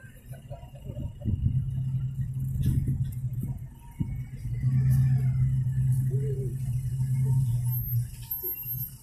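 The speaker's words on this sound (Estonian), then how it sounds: "jätkub vanade autode paraad." Old cars roll past in a vintage car parade at a Baltic Way 30th anniversary event, low engine rumble swelling and fading as vehicles pass at close range, with occasional faint voices in the background.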